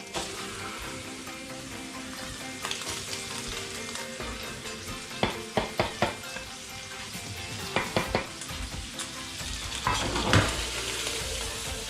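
Mixed wild Chinese mushrooms sizzle steadily in a hot pan, with a few sharp clinks and stirring knocks against the metal punctuating the continuous frying hiss.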